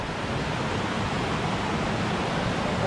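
A waterfall pours over a large stone slab in the Itapipoca hills of Ceará, Brazil, making a steady, dense, close-up rush of falling water with no voices over it.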